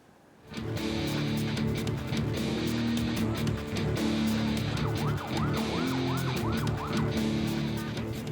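An ambulance siren wails continuously at a crash scene on a Jakarta street where a minibus hit motorcyclists, loud and close, with repeated rising and falling yelps from a second siren partway through and traffic noise underneath.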